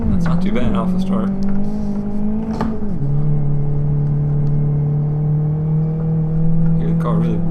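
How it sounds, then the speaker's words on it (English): A race car engine drones at steady revs, then its pitch drops and it bogs down into a lower, labored roar that holds, loud and close. "Hear the car really bogging down there."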